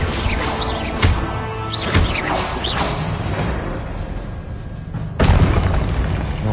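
Combat magic in Hogwarts Legacy, including a Confringo fire spell: whooshing casts and several punchy booms, with a heavy blast late in the clip, loud over a rumbling battle background.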